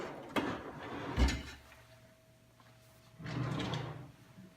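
A kitchen drawer holding skillets, pots and pans slides open and shut, with two or three short wooden rumbles and knocks close to the microphone in a quiet room.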